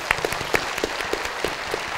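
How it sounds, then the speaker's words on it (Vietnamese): Studio audience on a Vietnamese game show gives a short burst of applause, a thin wash of clapping with a few sharper individual claps standing out near the microphone. "Một tràng vỗ tay nữa"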